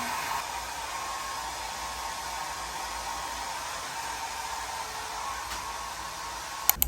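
A hair dryer runs steadily at moderate volume indoors, a continuous even blowing hiss with no pauses, ending with a couple of sharp clicks or knocks near the end; no one speaks.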